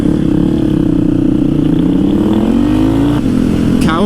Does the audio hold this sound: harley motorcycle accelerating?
yes